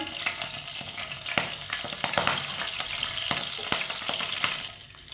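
Whole cumin seeds sizzle in about half a cup of hot oil, a dense, close frying crackle with scattered sharp pops and spits that keeps going the whole time, then eases off slightly near the end.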